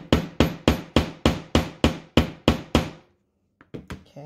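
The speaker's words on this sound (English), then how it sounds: "I'm going to go ahead and hammer it just a little bit more." A hammer strikes a Dritz heavy snap fastener in a steady run of about ten loud, evenly spaced metallic blows, then stops, followed by a few lighter taps after a short pause.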